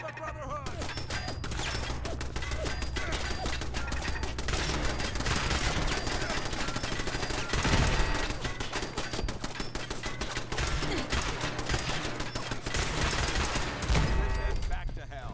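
Dense, sustained video game gunfire, rapid automatic bursts rattling almost continuously for the whole stretch, loud and close, with a steady low hum beneath and occasional voices in the background.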